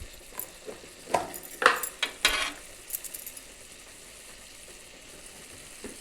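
Coriander powder is stirred into carrot curry pieces in a pan, with a burst of close scraping and clinking spoon strokes over a soft sizzle that settles into quieter, sparser stirring.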